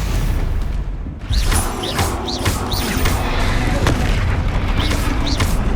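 Bombarda spell explosions in Hogwarts Legacy, loud low booms over continuous heavy battle rumble, with whooshing spell effects repeating through the fight and a brief dip before the blasts resume.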